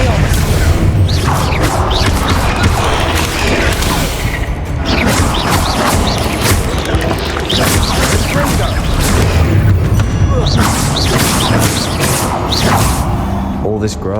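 Loud booming blasts and crashes from Confringo explosive spells cast in combat in Hogwarts Legacy, dense and continuous, mixed with whooshes and impacts throughout the fight.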